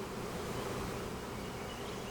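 Honeybees buzz in an opened hive: a steady, dense, close-up drone of many wings with no pauses over two seconds.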